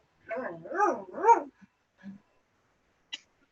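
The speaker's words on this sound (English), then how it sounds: "Was that a dog? It's the dog." A dog barks a few times close by in a home kitchen during a cooking session, with short loud yaps followed by fainter sounds, while people talk nearby.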